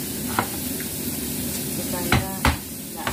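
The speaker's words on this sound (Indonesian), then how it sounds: "Ini nanti kita goreng, teman-teman." Ginger pieces frying in a pan for an Indonesian spicy pindang vegetable dish, a steady close sizzle with a few sharp stirring scrapes and clinks of a utensil against the pan.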